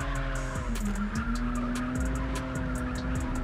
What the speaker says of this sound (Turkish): El frenini çekme sesi falan koymuşlar.